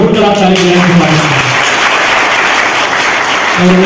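Loud applause at an anti-dowry association gathering in Jaipur, dense clapping over the hall with a voice speaking or chanting briefly at the start and end.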